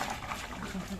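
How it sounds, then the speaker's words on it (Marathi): Mutton dalcha boiling in a huge 150-kilo pot, a bubbling, gurgling liquid sound, fairly close, with a voice talking over it. "मटणाला मस्त अशी उकळी आलेली आहे"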